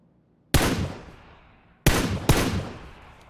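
Gunfire in PUBG on the Sanhok map: three loud, sharp shots, the first alone and the last two close together, each with a long echoing tail and no talking.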